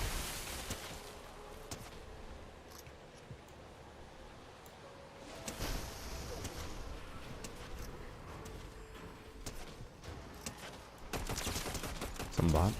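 Fury assault rifle fire in a video game match, with scattered shots and bursts over steady game ambience, moderately loud, and voices talking throughout.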